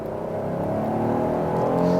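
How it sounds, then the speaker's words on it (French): Kia Carnival engine pulling hard through a 0-100 km/h acceleration run, a steady rising whir and drone heard from inside the cabin, loud and continuous, slowly climbing in pitch. "On va faire un 0-100 km/h et vous allez entendre le moteur."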